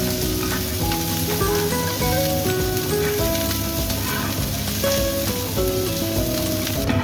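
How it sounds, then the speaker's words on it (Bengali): Green chillies and onion fry together in a pan for pan-fried momo, giving a loud, continuous close sizzle with steady crackle and no talking. "সুন্দরভাবে এটা ভেজে নেব।"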